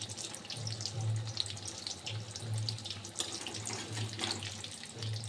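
Pumpkin fritters (beguni) frying in oil make a steady, dense crackling sizzle with no voices.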